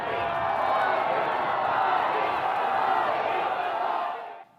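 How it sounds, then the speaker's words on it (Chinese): A large crowd of Indian people living in the US cheers at an outdoor welcome, a steady dense roar of voices and whoops held for about four seconds before it cuts off. "现场大阵住伫美国的印度的民众欢呼声中"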